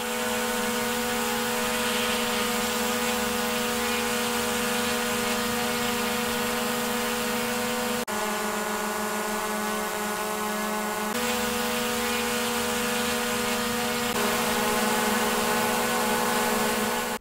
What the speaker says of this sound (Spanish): Vamos a continuar con la prueba utilizando las hélices originales del drone.